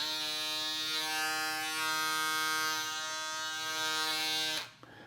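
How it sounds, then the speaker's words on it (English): A close Andis electric foil shaver hums with a steady, loud buzzing drone, then switches off abruptly near the end. "Let's compare the sound of both of these. So this is the Andis shaver."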